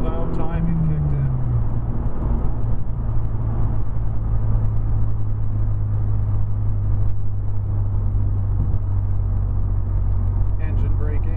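A 2010 Mazda 3 GT with a 2.5-litre engine, engine braking on the road: a steady low drone that drops in pitch early on, then holds as a continuous rumble throughout, up close from inside the car.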